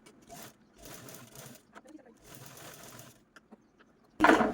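A sewing machine runs in several short stitching bursts of rapid mechanical whirring, close and moderate, as it sews a small red fabric handle from a three-inch square of cloth, with a louder clatter of handling at the end.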